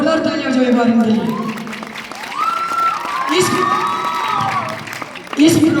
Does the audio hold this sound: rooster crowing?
no